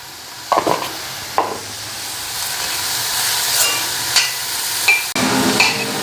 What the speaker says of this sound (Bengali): এদিকে এটা ভালো করে ফ্রাই করে নিই